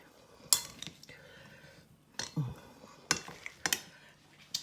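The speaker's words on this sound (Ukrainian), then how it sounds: "розмішуємо, додали в кінці фасолі, ви бачили, і розмішуємо" A spoon stirs cabbage soup with beans in a pot, making a few sharp metallic clinks and scrapes against the pot's sides, spaced irregularly amid quiet pauses.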